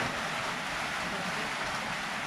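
Heavy, constant rain roars in a continuous broadband wash, loud and close, with no pauses or other distinct sounds.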